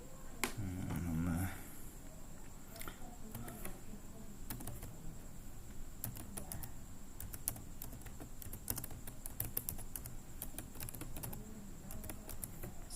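A name being typed on a computer keyboard: quiet, irregular clusters of light key clicks spread through a faint, steady room hum, with no talking.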